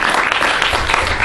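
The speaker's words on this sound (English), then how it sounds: "Did I get a clap?" Comedy club audience clapping in a short, steady burst of applause filling the room, dense and fairly loud throughout.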